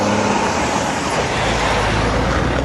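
Steady roadway roar of cars and lorries passing close by at a roundabout, a continuous loud rumble with heavy low engine drone and tyre hiss throughout, no voices.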